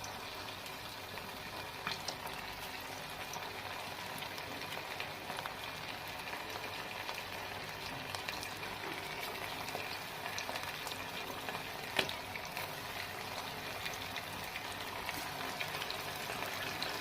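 Chicken pakora fries in oil over low heat, giving a steady, faint, continuous sizzle and bubbling crackle with scattered small pops and no voices.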